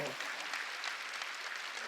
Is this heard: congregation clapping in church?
yes